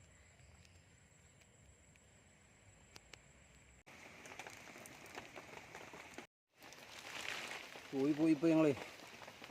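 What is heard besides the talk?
light rain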